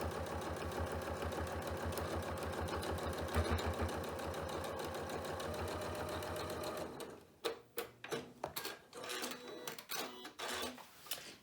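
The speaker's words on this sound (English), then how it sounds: "we've got a nice top stitch all the way along the side" A sewing machine top-stitches the side of a zippy pouch with a zipper foot, whirring steadily and evenly for several seconds before stopping, followed by a scatter of soft clicks and handling noises.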